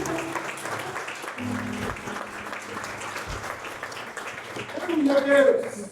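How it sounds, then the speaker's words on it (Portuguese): Congregation applause during a church sermon, moderate clapping from the gathered crowd with a voice and low tones under it, swelling louder near the end. "Dê uma salva de palmas para Jesus."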